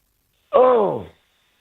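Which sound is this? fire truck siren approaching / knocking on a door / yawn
yawn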